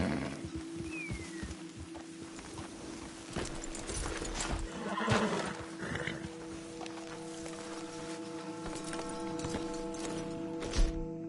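Horses in a PS4 video game whinny and neigh amid hooves clip-clopping, with ambient outdoor game sounds; no talking.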